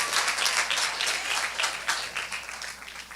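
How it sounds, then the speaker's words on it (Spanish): A church congregation gives strong, sustained applause to the Lord, dense clapping from many hands with no break, close and loud throughout with no voices over it. "Give that strong applause to the Lord."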